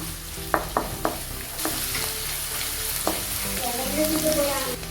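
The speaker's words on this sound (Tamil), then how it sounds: "இந்த இஞ்சி, பச்சை மிளகாய், எல்லாம் போட்டு கொஞ்சம் நல்லா அந்த பச்சை வாசம் போகிற வரைக்கும் வதக்கணும்।" Ginger and green chillies frying for chicken momos, with a steady close sizzle in the pan and several sharp taps of the stirring utensil against it.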